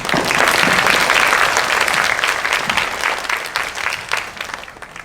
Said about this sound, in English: Please give another round of applause to the students of Team A for their hard work